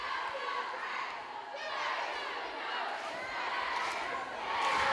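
Crowd at a color war basketball game cheers in a steady, swelling roar of voices that rises and falls over a few seconds, heard from within the gym.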